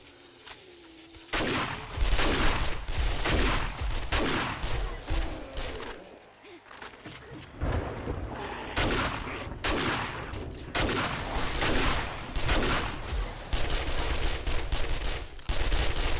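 Heavy gunfire in a zombie-horde survival game during a blood moon night, a run of loud, close, booming blasts in irregular clusters with short lulls between them, with no talking over it.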